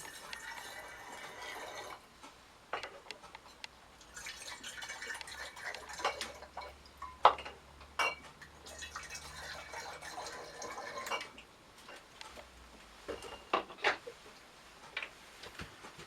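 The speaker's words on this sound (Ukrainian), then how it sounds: "Потім, використовуючи ось таку лійку, наливаю невеличку кількість води в кожну пляшку." Water is poured through a small funnel into bottles of homemade white grape wine, giving soft intermittent trickles and fills with light clinks and taps between pours, quiet and close.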